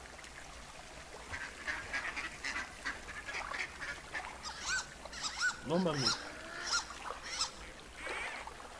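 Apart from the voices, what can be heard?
duck quacking in the video game Firewatch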